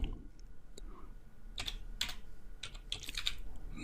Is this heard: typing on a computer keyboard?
yes